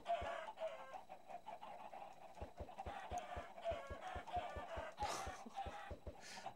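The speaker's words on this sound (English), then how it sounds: "I'm running with the chickens!" Minecraft chickens cluck steadily through the stretch, close and moderately loud, over a backdrop of game sounds and a repeated low thumping rhythm, with a crowing-like note among the bird calls.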